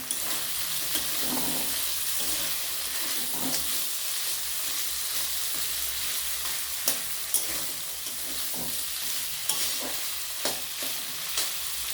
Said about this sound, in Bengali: মশলাটা আমার বেশ ভাজা হয়ে গেছে এবার আমি কিছুটা মটরশুঁটি ছাড়িয়ে রেখেছিলাম সেটা দিয়ে দিলাম